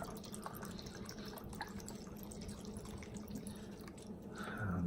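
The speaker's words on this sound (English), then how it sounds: "I'm gonna go ahead and pour the broth in here" Miso broth poured into a noodle container: a soft, continuous trickling and splashing of liquid, close but quiet, steady throughout and swelling slightly at the end.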